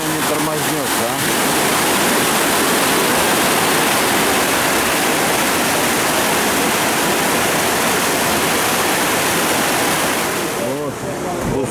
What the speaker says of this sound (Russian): Река шумит.